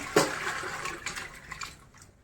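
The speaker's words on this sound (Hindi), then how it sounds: "ये जो गरम पानी इसके अंदर डालो" Hot water is poured out of a pot used for boiling spinach, giving a short splashing gush that trails off into a soft, fading trickle, fairly quiet and with no voices over it.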